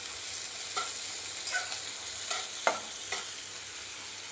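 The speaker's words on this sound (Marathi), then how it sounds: "कांदा तेलामध्ये गुलाबी रंग येईपर्यंत परतून घ्यायचा आहे." Finely chopped onion sautés in lightly heated oil, a continuous bright sizzle close by, with a few stirring scrapes of the spatula against the pan and no speech.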